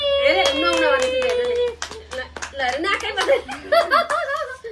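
A family at home clapping along as a Nepali song is sung, quick hand claps mixed with singing, chatter and chuckles, close and fairly loud.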